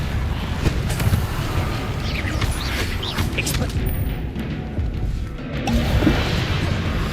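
Depulso spell impacts in the Hogwarts Legacy game during a busy combat scene, a dense barrage of crashing, thumping hits and bursts layered over continuous loud battle noise.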